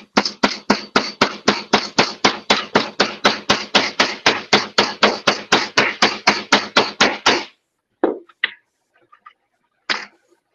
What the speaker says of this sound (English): So let's close it up and add some more clay in it and hammer it.